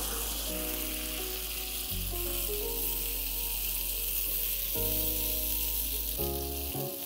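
Moong dal stirred into a hot tempering over a high flame sizzles and fries steadily up close, while a low, shifting tonal hum runs underneath.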